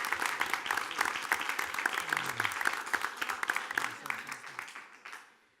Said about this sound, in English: I want to give the district a big round of applause for our support there for the foundation.